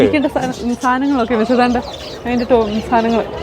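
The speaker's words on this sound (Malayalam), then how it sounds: "ദൈവമേ ഇത്രയും കിളികളോ" Several birds coo and call close by in a pet shop in repeated low, throaty phrases, with people talking among them.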